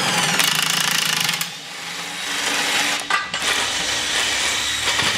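An AME International 71025 impact truck tire demounter works a truck tire bead off the rim, a loud, close, rapid metallic hammering that runs almost continuously, with only brief pauses.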